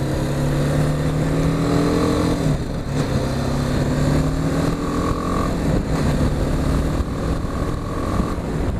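BMW G 310 GS motorcycle ridden along a single-track road, a loud continuous engine drone that rises and falls in pitch through gear changes, with wind rush throughout.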